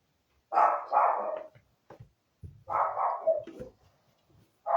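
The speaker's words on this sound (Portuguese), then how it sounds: "Agora ele vai latir lá fora" A dog outdoors gives two bursts of barking separated by a short pause, close and clear against a quiet background.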